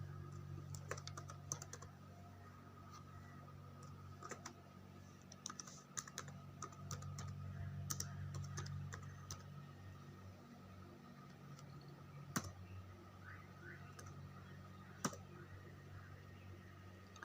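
Java code being typed on a computer keyboard, with steady soft key clicks and occasional sharper taps over a low hum, close by and without speech.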